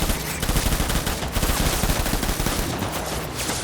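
Enemy gunfire in the video game Death Stranding, dense continuous bursts of automatic and single shots crackling nonstop and loud throughout, with no voices over it.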